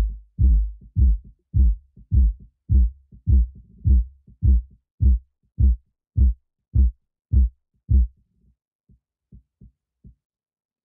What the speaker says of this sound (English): let me isolate that boom noise, and it's called the boom audition button